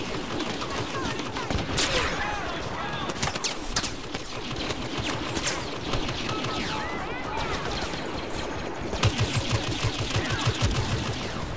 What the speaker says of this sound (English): he's taking pot shots from over there.